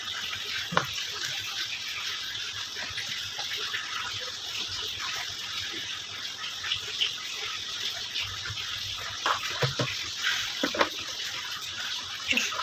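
Liquid is poured into a small bottle at home, giving a steady close trickle and splash that runs unbroken, with a few faint clinks and bumps.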